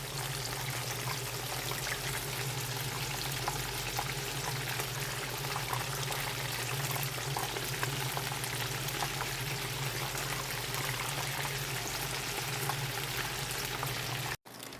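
Chicken wings coated in wet batter deep frying for an Asian-style fried wing, a steady dense sizzle and bubbling crackle that stays loud and even throughout before cutting off abruptly near the end.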